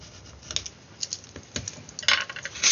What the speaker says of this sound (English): I can cut down the side of the card. I can cut along the base.